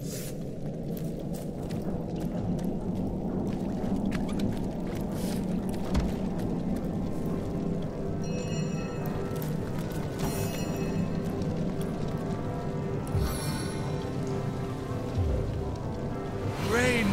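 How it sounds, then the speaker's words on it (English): Steady rain in the video game Divinity: Original Sin, a constant close patter of drops on surfaces continuing throughout with a few brief louder splashes and faint background tones. "Rain nurtures our land."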